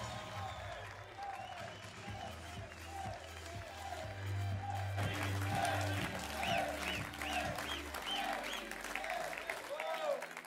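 Applause from the audience at a young farmers' union meeting welcoming the national JA president, steady crowd clapping that swells midway, mixed with low rhythmic thumps and a voice speaking over it.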